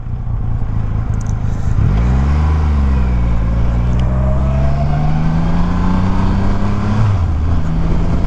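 A 2021 Triumph Rocket 3 GT motorcycle being ridden, its big engine droning loud and close, with the pitch rising and falling through throttle changes and gear shifts amid steady wind rush.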